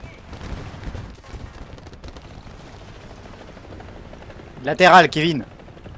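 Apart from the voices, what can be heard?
aircraft flying overhead in the video game War Thunder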